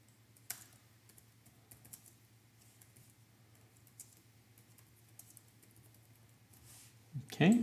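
Someone types a reply on a computer keyboard with soft, scattered key clicks over a low electrical hum. A voice briefly speaks at the very end.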